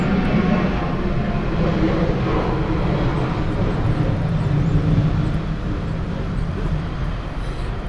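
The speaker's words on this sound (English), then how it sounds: "And I think all these airplanes, I guess it's early," Airplanes flying overhead outdoors in the early morning, a loud continuous broadband roar with low rumble that stays steady for most of the span and eases slightly toward the end, no speech.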